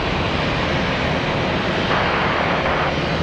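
An airliner rolls for takeoff on runway 36 at Charlotte Douglas International, a loud, steady broadband jet engine roar filling the whole stretch without letup.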